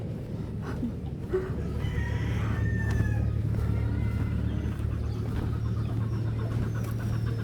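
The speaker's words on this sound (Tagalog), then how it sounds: "May mga pabo, guys." Distant fowl calls, like turkeys gobbling, come and go over a steady low hum and outdoor background noise.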